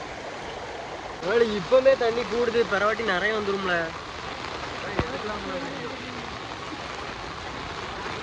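Floodwater rushing after heavy cyclone rain, a steady broadband roar that runs through the whole scene, with someone talking loudly over it in the first half.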